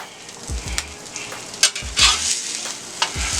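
A hash brown omelette sizzles loudly in a hot pan while it is scraped and flipped, with several sharp spatula scrapes and thumps over the continuous frying hiss.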